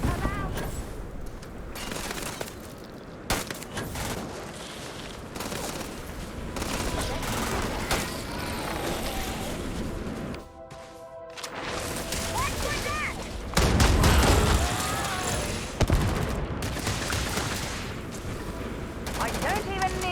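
Rapid bursts of gunfire from Starfield, sci-fi weapons firing in dense volleys that rise to a louder stretch midway, with voices talking over the shooting.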